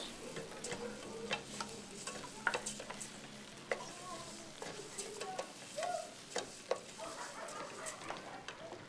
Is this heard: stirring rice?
yes